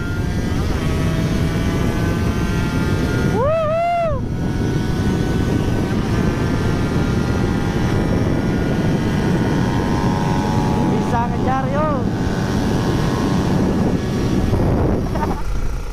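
A Kawasaki Ninja 150cc two-stroke and a Honda CBR 250cc race each other: a loud, steady, wind-buffeted roar, broken twice by a sharp engine whine that surges up and falls away as a bike revs hard or passes close.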